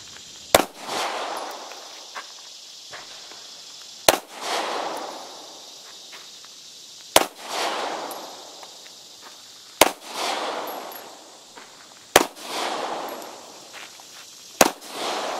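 Shots from a Taurus 709 Slim 9mm pistol firing reloaded 125 grain cast bullets at an outdoor range, six sharp loud reports spaced about two to three seconds apart, each followed by a short fading echo.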